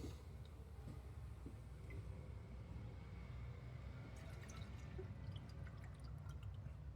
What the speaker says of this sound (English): So I'm gonna put some coolant in here.